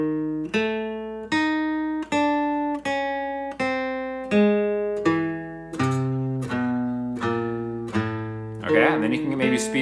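Single acoustic guitar notes are picked slowly one at a time, each ringing out clearly, stepping through a chromatic run with a strum at the end.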